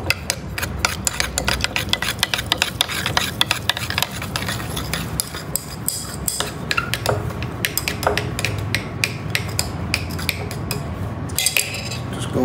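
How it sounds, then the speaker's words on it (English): A fake snow mixture with blue food coloring stirred in a container, continuous scraping and clinking of a utensil against the sides, with rapid rubbing strokes, close up and without voices. "And the last one is the blue food coloring. Give that one a stir."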